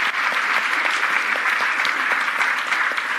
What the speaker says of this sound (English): let's give a round of applause to all our panelists